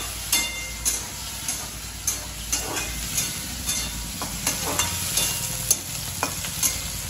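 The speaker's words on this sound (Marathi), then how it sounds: "कांदा चांगल्या प्रकारे आता फ्राय होऊ द्यायचा आणि टोमॅटो पण" Onion and tomato frying in hot oil in a pan, a steady sizzle punctuated by regular stirring scrapes and taps roughly every half second, close and alone without talking.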